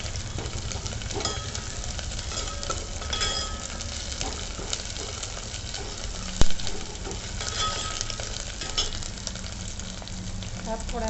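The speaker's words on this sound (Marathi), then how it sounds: "आता ही फोडणी आपण छान खमंग करून घ्यायची" Green chilli pieces and plenty of curry leaves fry in hot oil as tempering for Khandeshi kadhi, making a loud continuous sizzle with stirring scrapes and one sharp metallic clink partway through.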